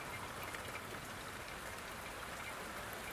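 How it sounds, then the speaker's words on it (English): Steady rain falling, a continuous even hiss with a soft patter across the whole stretch, moderately close and alone with no voices, after a tap has been turned off. "The sound of rain fills the space again."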